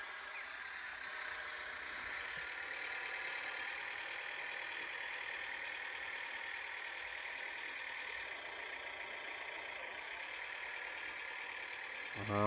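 A remote-controlled toy tractor's small engine runs steadily with a high, buzzing whine that shifts pitch slightly now and then. It stays close and constant throughout with no speech.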